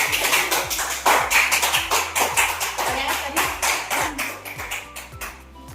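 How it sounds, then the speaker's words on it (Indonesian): Classroom audience clapping hands, a quick burst of fairly close, uneven claps from a small group, with a low rhythmic hum underneath, tapering off toward the end. "Tepuk tangan untuk Bapak."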